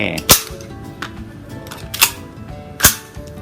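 Test firing of a Remington 11-87 shotgun or a CMMG .22 rifle: three sharp, separate shots with a short ring after each, spaced about a second apart against a quiet background.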